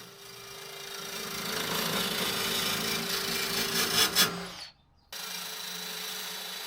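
Countersinking an aluminium mounting plate, a close continuous grinding rasp of the cutter on metal for several seconds, stopping abruptly before a brief silence and then a steady background hum.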